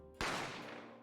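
A single sharp gunshot with a sudden loud attack and a long decaying tail, standing alone.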